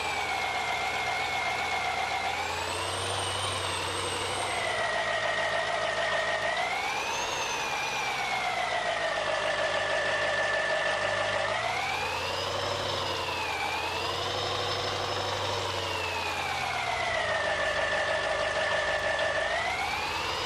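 The engine of a 2020 GMC Denali 3500HD truck in Farming Simulator 19 whines steadily while the truck is parked, its pitch rising and falling smoothly as it revs, with a constant low drone beneath it.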